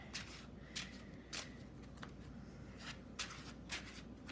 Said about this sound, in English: so we're going to keep shuffling